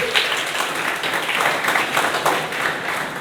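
A room of students at a coaching class ceremony keeps clapping, a steady, fairly loud wash of many hands without pause.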